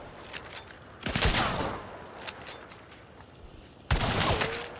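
Gunshots ring out in the Maw Battery skirmish game, with two sharp, loud cracks several seconds apart over a low background din and some quieter shots between, no talking heard.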